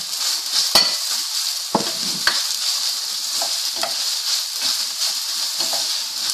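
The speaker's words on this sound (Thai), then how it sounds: "ผัดให้เข้ากันเลย" Vegan pad thai being stir-fried in a pan: a steady sizzle with scraping stir strokes and a few sharp clinks of a utensil against the pan, close and continuous.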